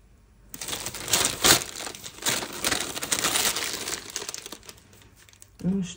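A new, clean plastic bag crinkles and rustles steadily at close range for several seconds, with dense crackling bursts, and a short voice is heard near the end.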